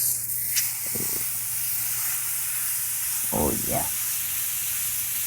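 Steak bites sizzle on a Blackstone griddle set to low heat, a steady close hiss running throughout while someone briefly speaks over it.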